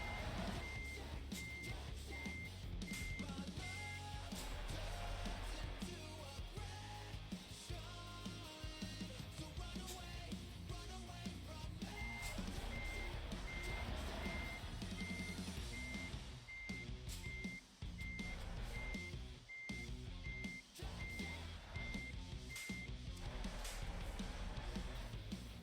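Reversing beeps from a double-trailer truck in Euro Truck Simulator 2 repeat steadily over a loud, continuous engine drone, pausing partway through and then resuming.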